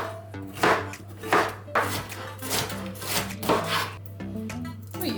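Onion and carrot being chopped with a knife on a board, a quick run of crisp, close blade thuds in an uneven rhythm, with no talk over them.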